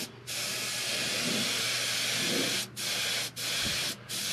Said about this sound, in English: we're using a little touch-up gun for doing this